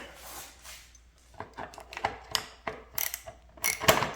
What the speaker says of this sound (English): I can now get a socket in here to remove this bolt here.